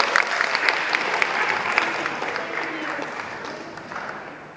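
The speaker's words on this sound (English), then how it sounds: "Give applause for all of you guys." Applause from a student conference audience, busy overlapping clapping that is loud at first and gradually thins and softens over a few seconds.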